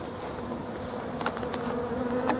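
Honey bees buzzing around a full beehive in Brittany during the autumn ivy flow, a dense, steady drone close by with a few louder individual passes, no voices.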